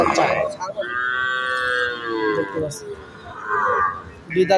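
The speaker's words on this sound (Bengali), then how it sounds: "দেশি গাভী সাথে বকনা বাচ্চা লাল কালারে আপনারা দেখতে পাচ্ছেন" A desi cow moos loudly and close by in one long, drawn-out call, with a shorter low moo trailing after it, at a cattle sale.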